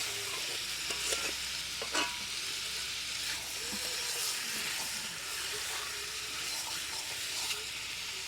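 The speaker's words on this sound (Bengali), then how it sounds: "মাংসগুলি পুরো আমি দশ মিনিট এগারো মিনিটের মতো কষিয়েছি" Meat sizzling loudly as it is stirred and sautéed in a pan for a home-style meat curry, a steady close fry with occasional scraping stirs.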